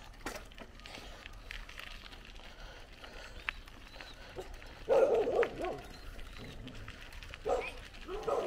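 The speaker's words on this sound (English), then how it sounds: "The dogs came out of the gate for me." Several dogs barking and yipping near a gate on a village road at Bullet Tree Falls, Belize, in short bursts that swell louder near the end, with faint outdoor ambience and occasional voices.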